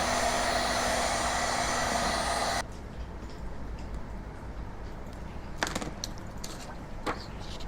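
Hot air blower heating a cracked Redmi 10 phone screen to loosen it, a loud steady whooshing hiss with a faint tonal hum that cuts out abruptly after about two and a half seconds, leaving quiet background and a few clicks.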